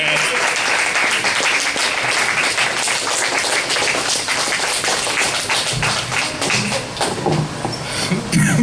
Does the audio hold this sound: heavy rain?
no